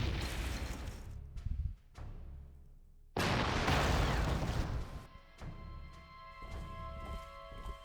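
Artillery explosions in a World War II strategy game: several loud booms and crashes, one long heavy blast in the middle, then sharp impacts over a lingering rumble, with no talk.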